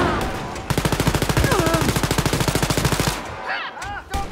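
Rapid automatic gunfire in the video game Wolfenstein: Youngblood, a loud burst of evenly spaced shots lasting a few seconds before cutting off, followed by brief quieter game sounds.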